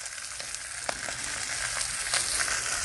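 Ribeye steak fries on a Blackstone griddle with added oil, giving a steady, close broadband sizzle throughout, with a few faint sharp crackles and pops rising out of the hiss.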